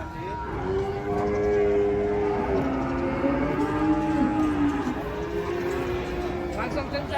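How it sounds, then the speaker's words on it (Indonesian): Cattle bellow in long, loud moos as they are unloaded from a truck, several drawn-out calls overlapping against a busy crowd background with voices. "serem detik-detik penurunan sapi ngamuk."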